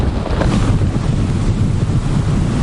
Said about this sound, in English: As the wind and waves grew